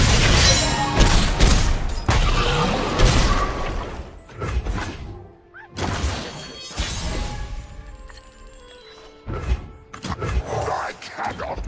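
Weapons firing in the Legends of Runeterra card game: loud, layered bursts of blasts, crashes and shattering impacts in several waves, with a game voice among them.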